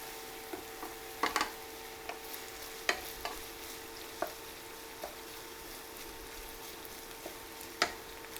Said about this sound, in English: we want to add the lemongrass. Stir this up a little bit.